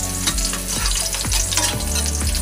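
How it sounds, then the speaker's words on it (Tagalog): Tofu sisig sautés loudly in a hot pan, a dense close sizzle broken by rhythmic spatula strokes scraping and tossing the pieces several times in quick succession. "So ayan guys, igigisa na natin yung ating sisig"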